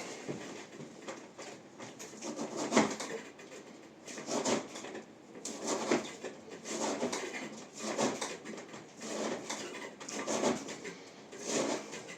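Cutting strokes from a hand-forged Yakut-type knife from a Ukrainian smith, repeated rasping slices in an uneven rhythm, close and moderately loud, with no talking.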